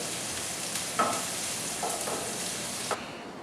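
Onions cook gently in a pan for tortilla soup, giving a steady soft sizzle with a few faint clinks of stirring, close and constant until it suddenly thins out at the end.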